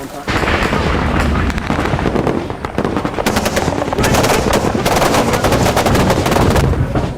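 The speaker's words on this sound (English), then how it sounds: "Taking small arms fire and RPG about 200 metres to our front." Heavy small-arms fire and rocket-propelled grenade blasts in an Afghan battle, with rapid machine-gun bursts and sharp cracks rattling continuously and loudly throughout, and shouted voices faintly mixed in.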